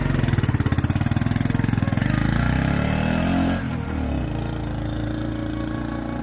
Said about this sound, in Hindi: अभी देखिएगा मोटरसाइकिल पहले गया था दूसरा गया